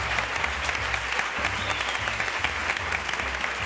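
A studio audience claps steadily and loudly as a regular guest is introduced on a comedy panel show, continuous applause filling the whole stretch with no voices on top.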